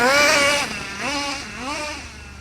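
A Kyosho USA-1 nitro RC truck engine runs during break-in, revving up and down in several rising and falling buzzy whines, close and loud, with no voices.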